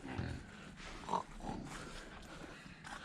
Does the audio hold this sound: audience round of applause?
no